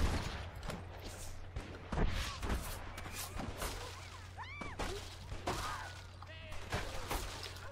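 Gunfire in Red Dead Redemption: a run of sharp shots and cracks, some in quick bursts, with impacts and ricochet-like whines close by.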